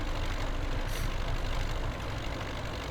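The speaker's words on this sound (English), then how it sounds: "Listen to the engine though, it's like clunk, clunk, clunk, clunk" A tractor engine idles with a steady low rumble in Farming Simulator 17, a continuous mechanical drone with faint clunking, heard alone at even loudness.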